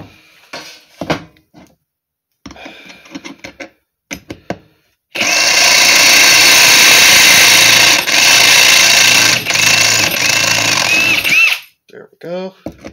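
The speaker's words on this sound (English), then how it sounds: "Drill these other two out." A power drill whines loudly and steadily for several seconds. Short clicks and brief tool bursts come before it, and quieter sounds follow once it stops.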